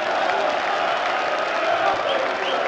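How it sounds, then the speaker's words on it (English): A darts crowd at the Austrian Darts Open 2017 cheers and applauds a checkout by Christian Kallinger, a dense sustained roar of voices and clapping that holds at an even level throughout. "That's got the crowd going even more."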